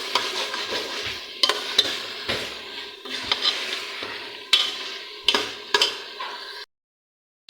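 Minced meat (keema) frying in a pan with oil separating, a steady sizzle broken by repeated sharp scrapes and knocks of a spatula stirring, ending in a brief silence.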